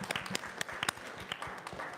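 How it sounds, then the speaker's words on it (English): Congregation in a church sanctuary giving a short round of applause for a returning member, scattered claps rising and fading briefly, with some faint chatter mixed in. "Let's give him a round of applause."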